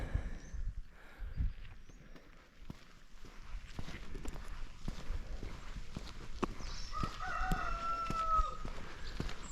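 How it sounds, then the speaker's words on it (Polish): A rooster crows toward the end, fairly distant, over outdoor ambience with footsteps and scattered knocks, at the start of a mountain trail from Wołosate to Tarnica. "Kogut."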